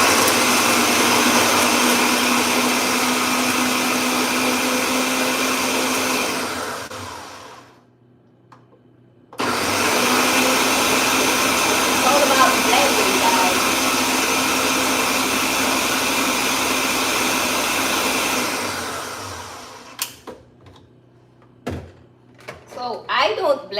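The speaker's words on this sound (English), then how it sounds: "So we're gonna start blending" A blender whirs loudly and steadily through a thick smoothie, stops briefly, then runs again at full power before cutting off, followed by a few clunks and knocks.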